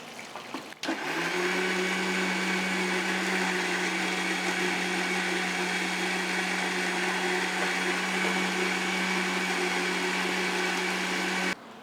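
A blender whirs up and runs steadily, grinding cashews, chili and oregano into a sauce, with a loud, constant motor drone that stops abruptly at the end.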